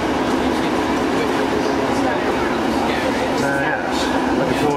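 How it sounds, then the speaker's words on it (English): Continuous rumbling ride noise inside a cramped train carriage bound for Penzance station, steady and loud throughout with faint voices underneath. "Be glad to get off this train."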